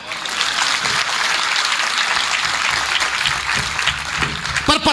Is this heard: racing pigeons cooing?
no